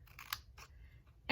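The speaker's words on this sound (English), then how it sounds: "get your little scissors, and you'll cut here" Small crafting scissors cut through paper for a stamped calendar project, giving a few faint, quick snips spaced apart in a quiet room.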